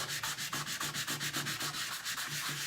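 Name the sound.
hand sanding wood with sanding block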